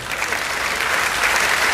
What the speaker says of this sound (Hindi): कम तालियां बजा रही हैं